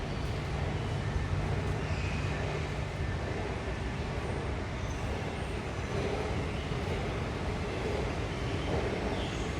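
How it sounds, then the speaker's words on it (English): An airport monorail shuttle train to Terminal B, a continuous loud rumbling ride with steady broadband rolling noise and hum, heard from inside or close by, with no clear talk. "I'll take this monorail here to Terminal B"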